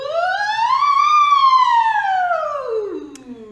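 A singer's voice imitates a siren during a vocal warm-up, one smooth sustained tone sliding up then gliding back down, loud and close, with no other sound.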